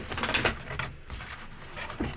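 Tarot cards are shuffled by hand at a reading table, giving a run of quick, crisp papery riffles and slaps in close, fairly loud bursts with a brief pause in between.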